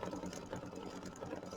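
Embroidery machine running a loose fill stitch on a quilt block with mylar, a steady close mechanical whirr with fast even needle pulses throughout.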